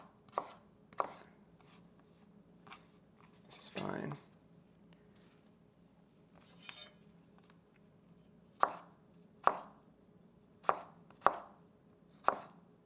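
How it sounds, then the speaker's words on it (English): Potatoes being chopped for fries on a cutting board: a knife hits the board in sharp, close strikes, spaced irregularly and then in a steadier run, over faint room hiss with a brief murmured voice. "ASMR chopping sounds"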